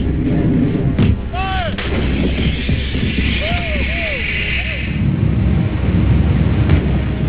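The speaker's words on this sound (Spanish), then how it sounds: "El M198 es hoy en día una pieza de artillería de alta tecnología, capaz de disparar 6 rondas por minuto" Booming M198 155mm howitzer fire, loud and close, with heavy blasts, rolling rumble and shells whistling overhead.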